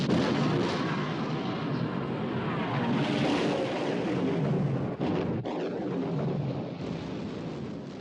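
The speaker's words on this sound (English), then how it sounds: "Open fire, Captain." Naval artillery fire in a war film: a loud, sustained roar of gunfire and blast rumble fills the scene, with a sharp break near the middle before the din continues.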